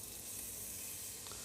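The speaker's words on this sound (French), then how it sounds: "une petite casserole, on va y mettre le beurre dedans" Butter sizzling in a small saucepan on the stove, a steady close crackling hiss that holds evenly throughout with no talking.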